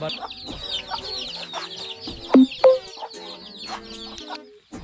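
A hen with her chicks clucks in a farmyard, with a steady run of soft clucks and chirps and two louder, sharper calls near the middle. The sounds are fairly close.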